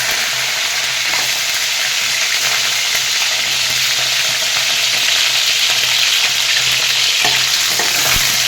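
Potatoes fry in an oil-filled pan for a home-cooked Sunday non-veg meal, a steady close sizzle with occasional stirring scrapes and no talking.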